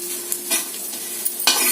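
Vegetables fry lightly in a pan in a brief, close burst of steady hissing sizzle, with a couple of stirring scrapes and a louder flare near the end, no speech.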